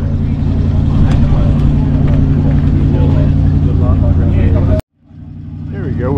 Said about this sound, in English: Here we go with this black Ford Galaxy. It started up here. Listen to them mufflers on that.